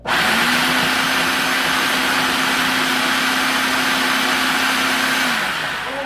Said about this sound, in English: It's just so much easier doing it with the food processor.